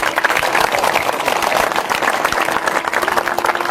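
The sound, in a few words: audience applause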